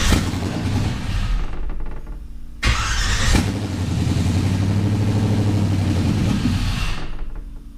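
A Land Cruiser with a swapped-in LS engine runs steadily at a rough idle, its loud, close rumble briefly cut off before it catches again and stumbles toward stalling.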